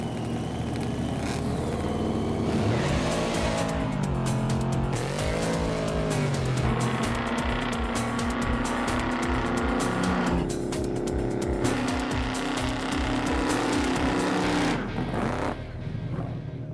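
A Chevrolet Bel Air races hard, with loud engine revving through gear changes and squealing tires across the whole stretch, fairly close.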